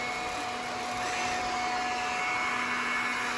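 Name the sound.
iRobot Scooba mopping robot running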